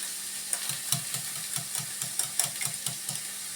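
Eggs beaten for an omelette, a brisk, even run of about a dozen close, sharp taps and clicks against the bowl, repeating every quarter second over a faint steady hum.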